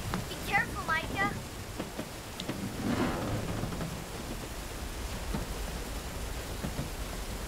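Steady rain falls in a Lego animated film, a continuous close hiss of drops with a rumbling swell like distant thunder, while short voiced exclamations sound at the start.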